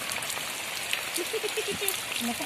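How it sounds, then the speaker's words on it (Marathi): Heavy stormy rain hisses across the whole stretch in Dahanu, Palghar, a dense broadband wash with scattered drop taps, while a voice speaks briefly partway through. "तुफानी पाऊस लागला आहे"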